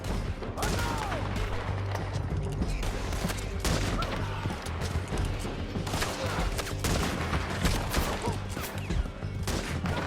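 Gunfire in the video game Red Dead Redemption 2 rattles on in a dense, continuous barrage of overlapping shots and bursts, loud and close, with faint shouting mixed in beneath.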